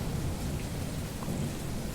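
Steady heavy rain with low rumbling thunder on a stormy night, a constant dense wash of sound with no voices.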